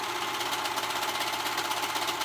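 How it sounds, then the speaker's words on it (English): A sewing machine runs steadily as it stitches the straight edge of a kids' hoodie, a fast continuous mechanical whirr close by with no pauses or talk. "I'm gonna go ahead and sew this edge"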